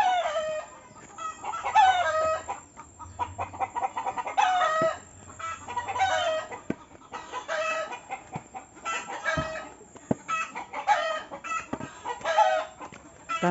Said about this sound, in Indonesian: suara ayam berkotek-kotek.